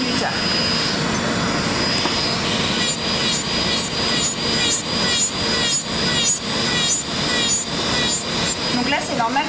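A high-speed electric sander running at 25,000 rpm whines continuously and loudly, with rhythmic rasping strokes as it grinds across a surface.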